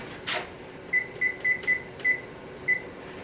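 Oven control panel being set to 375 degrees for baking a coconut cashew cake: one short press followed by a run of six clear electronic beeps, evenly spaced then a brief pause before the last, close and alone.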